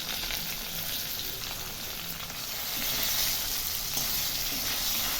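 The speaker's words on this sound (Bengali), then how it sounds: "কচুগুলো সুন্দর ভাজা ভাজা হয়ে এসেছে।" Steady oil sizzle of taro pieces and tangra fish frying together in a pan, a dense, even crackle that swells slightly midway, with no talking.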